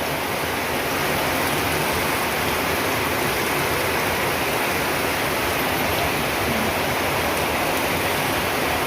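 Steady rain pouring as a continuous dense hiss, loud and unbroken, with no voices heard.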